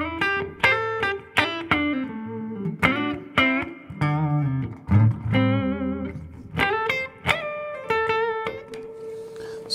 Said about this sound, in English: So the first thing I'm gonna do here is actually kick on some reverb.